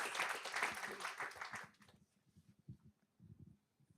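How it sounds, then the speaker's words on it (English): A crowd applauds after an International Women's Day lecture, a loud burst that stops abruptly partway through, followed by quiet shuffling and low murmurs. "Another round of applause for Dr. Naber."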